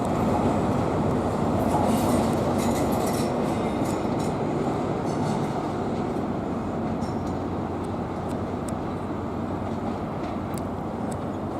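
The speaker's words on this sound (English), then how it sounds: "We've got the Class 90, looks like it's going to Northgate, that train is." A Class 90 electric locomotive hauls a train past on the line, making a loud, steady rumble of wheels on rails with a faint clickety-clack, and it stays strong for the whole stretch.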